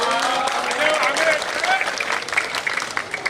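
An audience at an annual general meeting applauds steadily, a dense continuous patter of clapping hands from a crowd, with voices mixed faintly underneath.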